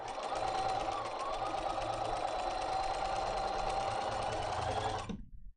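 A sewing machine runs steadily, sewing a curved quilt seam with a small stitch length, its fast even motor hum and needle chatter close and continuous for about five seconds before it stops.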